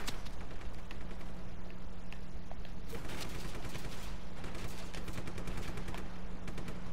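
Enemy soldiers fire automatic weapons in Just Cause 3, a dense, continuous crackle of rapid gunshots with sharper bursts stacking up midway, loud and unbroken over a steady low hum.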